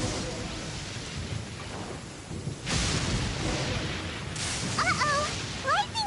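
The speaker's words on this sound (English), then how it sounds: "Uh-oh! Lightning storm!" A thunderstorm from the Genshin Impact video game rumbles with steady rain, and a loud crack of thunder hits midway, followed by more rolling noise and short bright electronic tones near the end.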